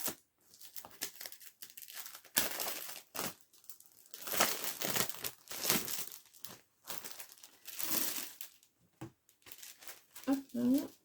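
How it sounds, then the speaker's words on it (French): Paper wrapping is peeled and torn off a 30x30 White Christmas paper pad in close, irregular bursts of crinkling and crackling, and a voice speaks briefly at the end. "Je vais vous enlever le papier, vous verrez peut-être mieux."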